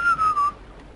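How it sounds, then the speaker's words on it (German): A person whistles a brief, slightly falling note, loud and close for about half a second before it cuts off, during a Crash Bandicoot 3 racing game session. "Hör auf zu pfeifen, Mann."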